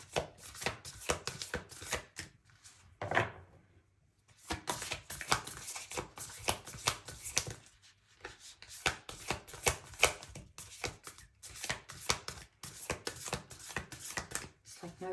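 Tarot cards are shuffled close to the microphone in rapid papery riffles and slaps, coming in bursts with short pauses between them. The sound is fairly quiet and no voice is heard.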